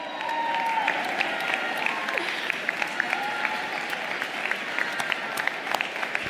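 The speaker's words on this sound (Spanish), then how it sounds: "Un fuerte aplauso" Loud, sustained applause from the crowd at a Podemos political talk in Spain, a steady wash of clapping with a faint voice calling out early on.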